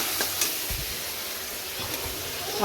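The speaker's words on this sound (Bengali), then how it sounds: "আমাদের জন্য আদা জিরে বাটা দিয়ে রুই মাছের ঝোলটা করব তাই মশলাটা কষানো হচ্ছে" Ginger-cumin masala paste for a rohu fish curry sautés in a pan, giving a soft, even sizzle with light stirring scrapes and small clinks, close and unaccompanied by speech.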